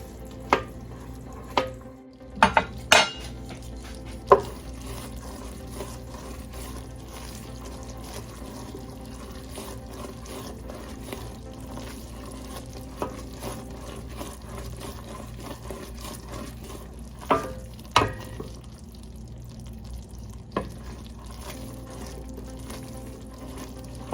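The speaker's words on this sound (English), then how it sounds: "I'm gonna keep on stirring it." Peanut brittle is stirred in a pot, a low bubbling and faint scraping throughout, with a handful of sharper clinks of the spoon against the pot near the start and again later.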